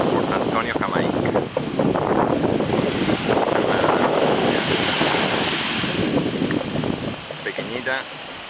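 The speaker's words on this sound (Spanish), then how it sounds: "esta es la playa de Boston Bay, Puerto Antonio, Jamaica" Ocean surf washes onto the beach at Boston Bay near Port Antonio, Jamaica, in a continuous roar with heavy wind buffeting the microphone and voices talking over it.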